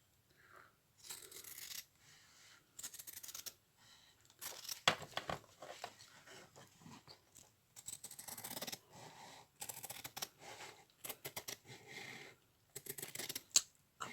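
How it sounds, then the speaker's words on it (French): Scissors cutting through a piece of stained fabric, close and quiet, a series of crisp snipping and tearing strokes in uneven bursts with brief pauses between. "On va s'en couper quand même un morceau."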